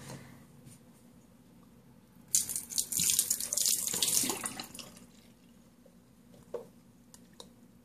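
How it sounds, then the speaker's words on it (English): A cup of water poured over a face, a short splashing gush of a couple of seconds, loud and close, set between quiet stretches with a few faint drips afterward. "I'm going to pour water on my face and see if it's water resistant."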